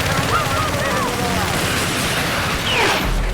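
Gunfire in Battlefield 6 combat: bursts of rapid automatic shots crackle close and loud, mixed with booms and mechanical clatter.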